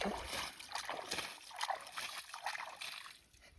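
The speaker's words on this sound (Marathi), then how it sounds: "पहिलं असं पाणी टाकून घेऊ" Water splashes and trickles outdoors in the hills while sheep are being washed, soft uneven pours and splatters at low level.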